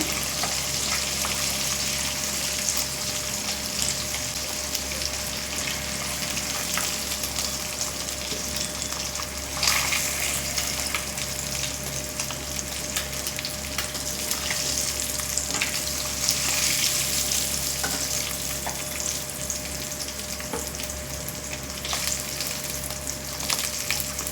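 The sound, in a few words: fish pieces frying in a pan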